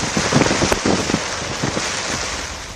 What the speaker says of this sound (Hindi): वहीं भारी बारिश से जामनगर कराह रहा है।